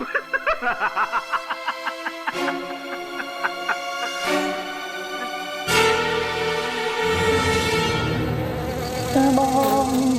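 A housefly buzzing in a Hindi TV drama scene: quick pulsing buzzes at first, then a denser, sustained tonal drone with sharp accents.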